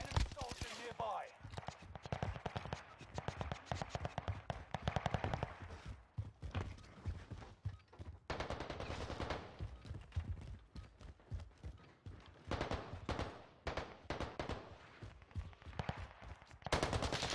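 Hostile gunfire in Warzone, repeated automatic bursts near and far through a busy battle mix, with stretches of rapid shots, brief pauses and voices over it.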